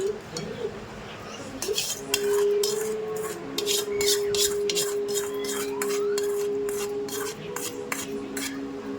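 A spoon scrapes and clinks against a metal bowl while hot oil is mixed into grated mango for avakaya pickle, with repeated rhythmic scraping strokes and light knocks, close up.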